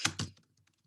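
Two quick keystrokes on a computer keyboard during programming work, close and crisp clicks followed by a few faint ticks fading into quiet.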